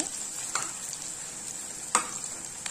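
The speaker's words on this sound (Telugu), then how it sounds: "ఇదిగోండి ఇప్పుడైతే వంకాయలు మగ్గుతున్నాయి కదా, ఇంకా మగ్గాలండి. ఇలానే సిమ్లో పెట్టుకొని మీడియం ఫ్లేమ్లో పెట్టుకుంటూ వేయించుకుంటూ మగ్గనించుకోవాలి." Eggplant (brinjal) pieces fry in a pan over medium flame with a steady soft sizzle, broken by a few sharp scrapes and clinks of a stirring spoon, heard close.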